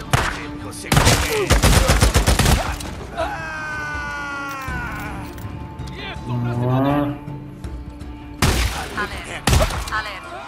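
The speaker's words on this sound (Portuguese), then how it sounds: "Vários disparos identificados." Gunfire in the Days Gone video game: loud bursts of rapid shots at the start and end, with groaning, mechanical sounds and game voices in between.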